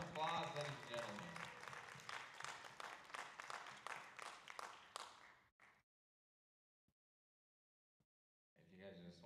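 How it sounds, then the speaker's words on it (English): Audience at a Miss Haskell pageant clapping in a full burst of applause that fades after about five seconds into near silence, followed by a brief resumption of sound. "Give a round of applause, ladies and gentlemen."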